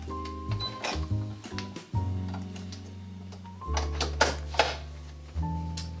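An embroidery machine stitches the word faith, putting out rapid mechanical clicking and ticking in bursts with tonal whirring motor hums. Short pauses and changes in pace break up the stitching runs.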